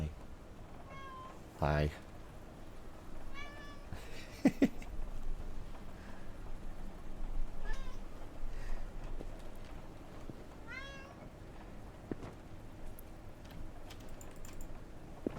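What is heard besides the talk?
cat meowing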